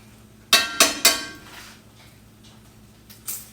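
Meat scraping and sliding in a cast iron skillet: three sharp metallic scrapes close together near the start, then fainter clatter and a final scrape, with no talking.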